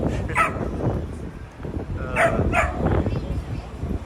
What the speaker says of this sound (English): Loud little dog.